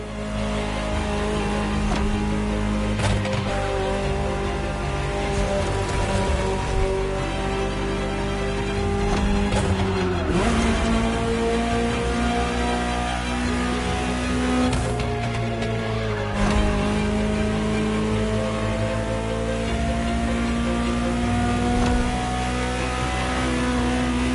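A Ferrari supercar engine in the video game Motorfest roars loud and close, climbing through the revs with brief dips at gear changes before surging again.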